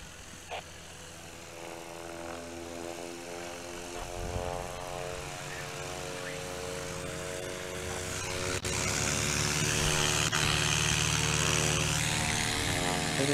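A STOL propeller airplane at a National STOL Series contest in Brainerd takes off, its engine drone building to a loud, steady roar with rising pitch as it powers up and climbs.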